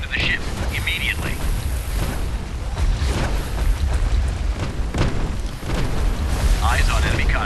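In the naval game Warship Mobile 2, a missile is shot down amid constant rumbling booms and blasts, dense and loud, with bursts of gunfire and an automated voice speaking over the battle.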